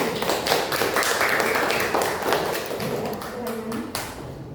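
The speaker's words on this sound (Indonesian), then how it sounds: "Boleh ini tepuk tangan untuk semuanya" A classroom group claps for fellow students after a presentation, uneven and choppy with distinct close hand claps and thumps, loud and near, fading somewhat toward the end.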